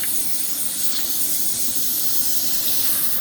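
A pressure cooker at 15 PSI, canning deer meat, vents steam in a loud, steady close hiss that holds without break.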